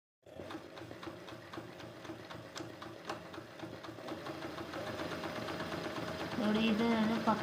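A sewing machine runs fast and continuously while practising a ball chain stitch, a steady rattling hum that grows slightly louder toward the end.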